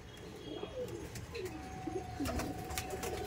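At a market for Giribaj pigeons, male pigeons coo in soft, repeated rolling calls that overlap in a fairly quiet, close-up scene with light background noise.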